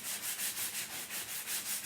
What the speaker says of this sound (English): let me grab a sanding block